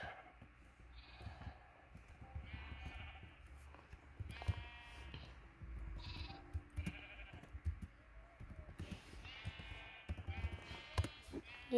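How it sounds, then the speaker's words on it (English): Repeated short game-style sheep bleats in a Minecraft Java Edition world, several calls spaced through the scene at moderate loudness, with faint background game sounds and no talk. "Oh, that's one of my sheeps."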